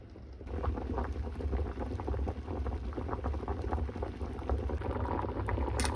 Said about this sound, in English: So you pretty much just boil it until they're like fork tender and kind of fall apart with the fork